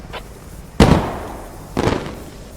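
Two heavy blasts of tank cannon fire or explosions in a tank battle video game, a sharp loud burst followed about a second later by a second booming shot, with a faint pop just before.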